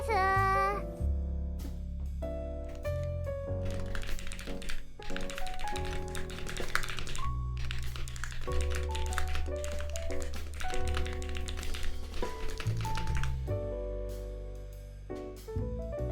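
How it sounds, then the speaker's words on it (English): Rapid, continuous tapping of a computer keyboard runs throughout, loud and close, with brief pauses between bursts of keystrokes over a faint musical background. "The typing is crazy fast."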